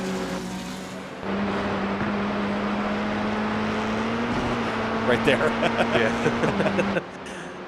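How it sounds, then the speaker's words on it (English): A race car in the iRacing sim hydroplanes on a wet Spa-Francorchamps track, its engine holding a steady loud drone that rises in revs. A commentator speaks briefly over it, and a sharp stuttering burst comes just before the sound cuts off. "The car hydroplaning, that's always a terrifying sound."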